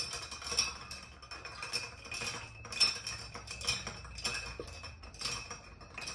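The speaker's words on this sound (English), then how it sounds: "And then we're just gonna stir it up." A spoon stirs an Old Fashioned cocktail in a glass, giving faint, steady tinkling and clinking against the glass in a repeating rhythm, quiet and close.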